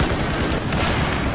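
Dense, rapid gunfire crackles continuously in a short, loud burst in Battlefield 4.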